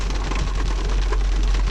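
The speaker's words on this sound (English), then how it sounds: "it's been some big splotchy melted hail droplets, but huge pieces of ice" Big, splotchy melted hail droplets and ice pellets strike a window in a dense, steady patter. The storm is loud and constant throughout, and no one speaks.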